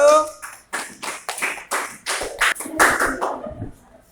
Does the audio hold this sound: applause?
yes